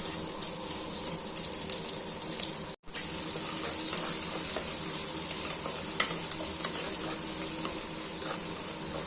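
Steady sizzling and crackling of chopped onions frying in hot oil in a pan, close by, with a brief dropout partway through.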